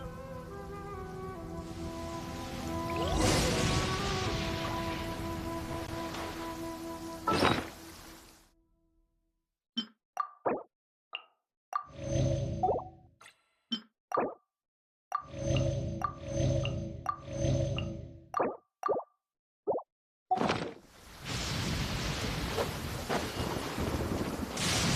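Rain and thunder in the video game Genshin Impact: a loud rolling thunder rumble opens over steady rain hiss, then choppy bursts broken by short silences, before the rain noise returns and holds to the end.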